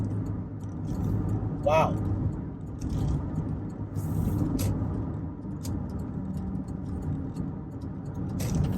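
A 2011 Toyota Highlander with 322,000 miles on its original engine and transmission cruises at speed, with a steady low road rumble and engine hum inside the cabin while a person talks over it.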